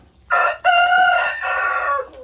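A chicken crows loudly and up close in a farmyard, one long, strained cock-a-doodle-doo that breaks off briefly and then carries on before it stops.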